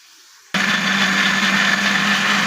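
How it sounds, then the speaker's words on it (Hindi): After a brief quiet moment, a blender blending tomatoes kicks on abruptly and whirs loudly and steadily, its motor churning without pause until the end. "टमाटरों के साथ हम इसको ब्लेंडर में डाल के ब्लेंड करेंगे"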